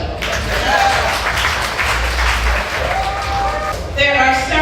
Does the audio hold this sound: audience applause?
yes